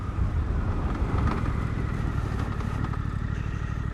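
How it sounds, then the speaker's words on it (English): Motorcycle speeding up to around 30 mph, then slowing using only the rear brake, a steady loud engine drone with some clatter and shifting pitch, close by and without speech. "I'm going to accelerate to about maybe 30 miles an hour, and then I'm going to use only front brake and then only rear brake"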